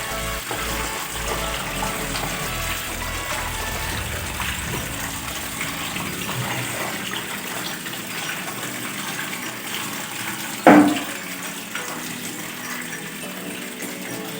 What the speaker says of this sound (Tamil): இப்போ பார்த்தீங்கன்னா தண்ணி ஃபுல்லாக ட்ரைன் ஆகி போயிட்டுருக்கு